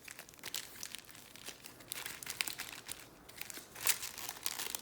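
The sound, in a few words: opening Star Wars Bounty Hunters trading card packs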